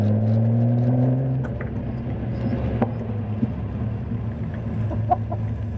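A carbureted Datsun 240Z engine revs steadily with a strong low drone that rises and then settles into a rough, uneven idle-like rumble, near and fairly loud, with no talk.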